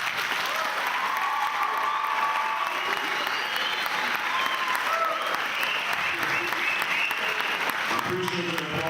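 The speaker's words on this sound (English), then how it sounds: "I appreciate the applause" An audience applauds after an anti-bullying speech at a training event, a sustained wash of clapping close and full throughout, with voices and cheers mixed in toward the end.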